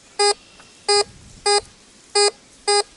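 A Tesoro DeLeon metal detector beeps over a quarter buried about four inches deep, giving five short, evenly spaced electronic tones, each a bright buzzy pulse, close and clear over quiet background hiss.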